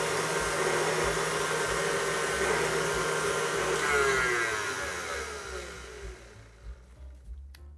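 An electric mixer whips a dairy-free vanilla buttercream base, a loud continuous motor whir that holds steady for several seconds and then cuts off, leaving faint clinks.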